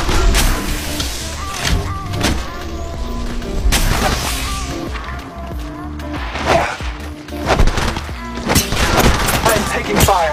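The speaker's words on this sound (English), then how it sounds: "I am taking fire." Gunfire in the mobile video game Apex Legends Mobile, a steady stream of repeated loud shots and impacts over game music and effects, continuous throughout with short bursts of talk.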